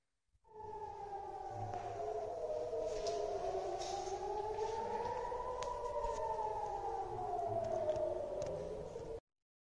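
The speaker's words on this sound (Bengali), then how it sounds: "আর তার কিছুক্ষণের মধ্যেই সাইরেনের আওয়াজ শুনতে পেলাম, যেটার জন্য আমি এখন নিচে যাচ্ছি।" A civil defense air raid siren in Israel wails loud and steady, its pitch slowly rising and falling without a break, with no one talking over it.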